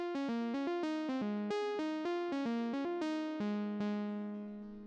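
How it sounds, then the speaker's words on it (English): A pluck synth patch from a pop track's lead plays a quick melodic phrase of short, sharply attacked notes that decay fast, clean and upfront with no other sounds. "and here is the pluck."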